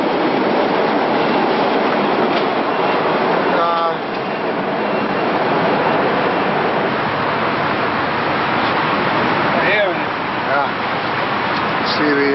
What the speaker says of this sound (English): Live trains below us here, orange line going to Boston.